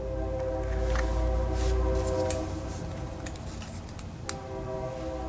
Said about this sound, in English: I hear a train, but I just heard a door.